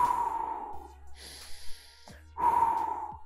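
Two loud, close breaths, sharp gasping or snorting intakes, are separated by a quieter, softer breath in between.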